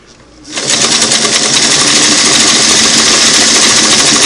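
A Singer Model 338 sewing machine starts up and runs a single-needle zigzag stitch, its fast, steady mechanical whirr loud and continuous after a brief quiet start.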